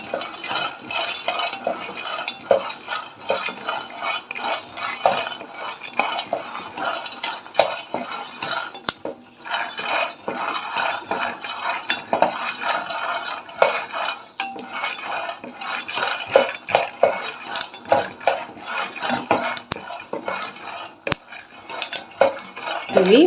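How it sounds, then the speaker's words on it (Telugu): Sago khichdi being stirred and fried in a pan, with a utensil steadily scraping and clinking against the metal throughout and a faint sizzle underneath, close and continuous with no talking. "ఇప్పుడు బాగా కలుపుతాము కలిపి కొంచెం దోరగా వేయించుకుందాం"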